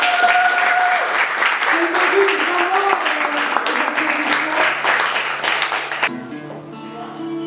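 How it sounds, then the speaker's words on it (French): Warm applause for female singers at a gospel worship gathering, a dense clapping wash over lingering musical tones that fades at the end as a sustained keyboard note continues, with some speech heard. "est-ce qu'on peut les applaudir parce qu'elles sont belles?"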